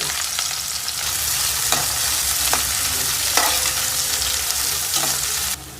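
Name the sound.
mustard seeds and sugar frying in hot oil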